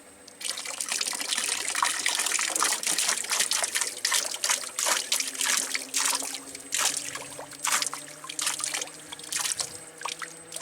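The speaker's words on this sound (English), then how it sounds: "It's been 20 seconds and the pump starts." An RPS solar water pump starts with a low steady hum as water trickles and drips through tubing in a continuous splattering stream.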